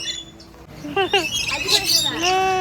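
Lory parrots call at Ocean Park Cebu in a series of harsh squawks and rising chirps, close and fairly loud, with people talking nearby.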